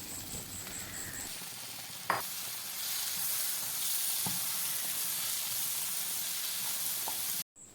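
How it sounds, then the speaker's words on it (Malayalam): Fried onions and prawns are mixed into softened tomatoes in a pan for Kerala-style prawn biryani, a steady close sizzle with a few soft knocks of a spoon, no voices, ending in a brief cut. "തക്കാളിയെല്ലാം വഴന്നതിന് ശേഷം അതിലേക്ക് ഫ്രൈ ചെയ്ത് വെച്ചിരിക്കുന്ന 1 പിടി സവോളയും ഫ്രൈ ചെയ്ത് വെച്ചിരിക്കുന്ന ചെമ്മീനും ചേർത്ത് നന്നായി മിക്സ് ചെയ്ത് കൊടുക്കാം."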